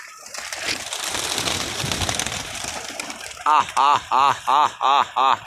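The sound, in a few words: pigeons arriving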